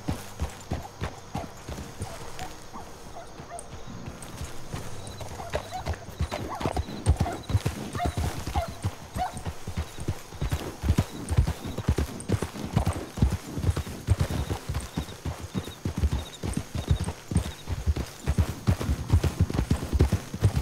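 Horse hooves clip-clopping in a steady walking rhythm, close by, with a short whinny early on.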